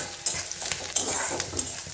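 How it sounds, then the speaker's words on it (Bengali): Potatoes and snails frying in a pan with onions, stirred with repeated scraping strokes over a steady sizzle, close and fairly loud. "এবার গুগলিটা দিয়ে একটু নাড়াচাড়া করি"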